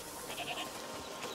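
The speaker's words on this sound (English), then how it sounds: "What's over there? Goats!" A faint, wavering goat bleat from the video game A Plague Tale: Requiem sounds in a short burst over a quiet background.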